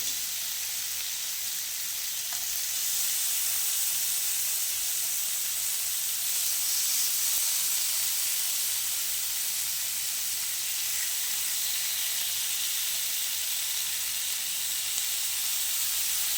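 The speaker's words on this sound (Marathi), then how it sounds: "दोन्ही बाजूला व्यवस्थित ब्राऊन रंगापर्यंत येईपर्यंत ते आपले चिकनचे तुकडे आपण भाजून घेणार आहोत" Chicken pieces pan-roasting in a heavy-bottomed pot for restaurant-style butter chicken, a steady, even sizzle and hiss that carries on continuously, close and without talk.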